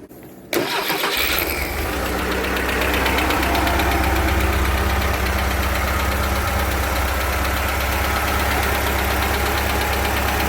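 A 1970 VW Karmann Ghia engine cranks briefly and catches, then settles into a steady, loud running idle close by with a busy rattling texture that continues without talk.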